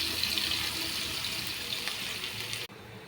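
Green chilies and chopped onions hit hot oil for an aloo green peas curry, making a steady hissing sizzle that runs evenly and then cuts off abruptly near the end.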